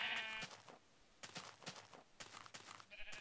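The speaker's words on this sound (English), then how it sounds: "Oh, there's like a sheep over here." A sheep bleats in the block-building video game Minecraft, a few short game-audio bleats sounding clearly over faint background game noise.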